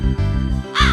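A cartoon mother crow cries out in harsh, loud caws, several close calls in quick succession.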